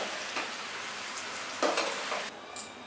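Malabar spinach frying in a pan, a steady close sizzle broken by a few scraping stirs of the spoon, with a louder stir partway through before the sizzle settles.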